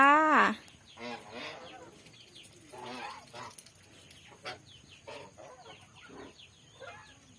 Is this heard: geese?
yes